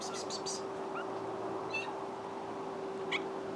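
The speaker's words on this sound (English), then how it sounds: "Kitty!" A cat gives a few short, high meows, one near the start and others spaced through the moment, over a steady low mechanical hum in the background.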